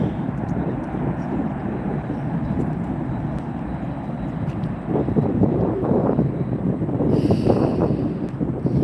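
A heavy Boeing 747 freighter lands at Miami International Airport at night, its thrust reversers giving a continuous broad roar that swells louder toward the end, heard from a distance.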